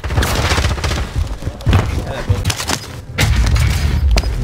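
Gunfire rattles in a shooter video game as an enemy soldier is shot, several loud bursts with sharp individual cracks and heavy booms, a player talking and laughing over the shooting.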